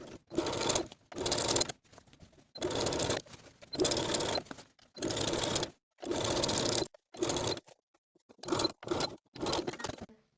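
A sewing machine understitches a facing to the seam allowance along the upper edge of wide-leg pants, its close motor whirring in repeated short runs of stitching separated by brief silent pauses.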